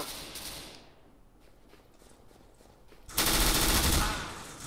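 Gunfire from the video game Counter-Strike: Global Offensive, played with a gamepad: a short burst at the start, a quieter lull with faint clicks, then a loud, sustained automatic volley that fills the second half.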